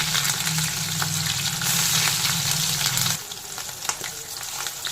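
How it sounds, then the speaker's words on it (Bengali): Fasha fish frying in hot mustard oil in a kadai, a loud bubbling sizzle that drops to a lighter crackle partway through, heard close with no one talking. "তেল গরম হয়ে গেছে, মাছগুলোকে গরম করে ছেড়ে দেব।"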